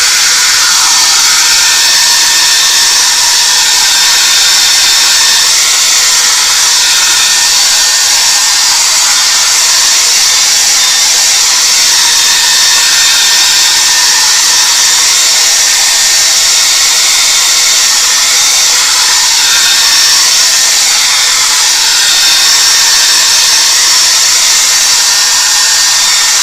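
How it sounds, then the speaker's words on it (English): A hair dryer blows steadily to dry wet paint on a painting, a loud, close, unbroken whooshing hiss with no break for the whole stretch. "This is still just a tad bit wet, so I'm just going to blow dry it"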